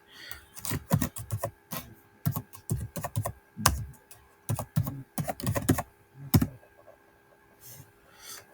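Keys clack on a computer keyboard as a command is typed, in close irregular bursts of rapid taps separated by short pauses, with quiet at the end.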